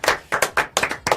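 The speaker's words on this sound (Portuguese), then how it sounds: "Salve de palmas para eles." Audience applause at a Brain Week program event, several sharp bursts of hand clapping in an uneven rhythm, close and fairly loud with no talking.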